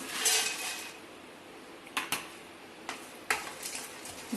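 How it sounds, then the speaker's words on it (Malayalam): Almonds, cashews and pistachios being roasted in a pan, with a soft rattling hiss at the start followed by several sharp metallic clinks and taps of a spoon against the pan, close and quiet, with no talk. "ഇതൊന്ന് റോസ്റ്റ് ചെയ്തെടുക്കാനായിട്ട് ബദാം ക്യാഷു പിസ്ത ഇത് മൂന്നും മൂന്ന് സ്പൂൺ വീതം എടുത്തിട്ടുണ്ട്"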